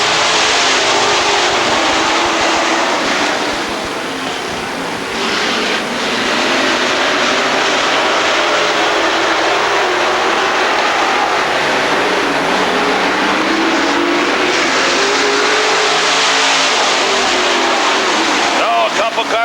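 A field of bracket race cars at Rockford Speedway roars loudly as it accelerates after the green flag, a dense, sustained engine drone that swells and shifts as cars pass, with a voice talking over it.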